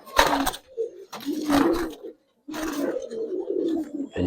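A pigeon let go by hand flaps in three loud bursts of wingbeats, separated by short pauses, while low soft coos carry on in between and underneath, close to the listener.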